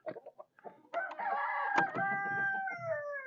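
Roosters on a homestead flock crow close by, one long strained cock-a-doodle-doo rising over scattered clucks and short calls.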